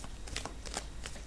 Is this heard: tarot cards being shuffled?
yes